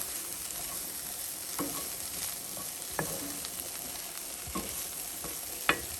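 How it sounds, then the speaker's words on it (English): Chopped onions, peppers and garlic being stirred in a frying pan, a steady soft sizzle with a few scattered sharp scrapes of the utensil against the pan, heard close and alone. "I'm throwing that right in there with the onions and peppers and garlic. And I'm going to mix that up well"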